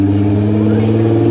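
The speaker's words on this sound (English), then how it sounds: "I hear an awesome car." A car engine revs with a deep, steady growl at a car show, loud and close, over a brief moment.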